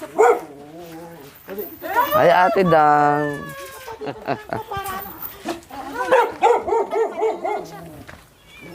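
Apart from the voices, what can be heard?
dog barking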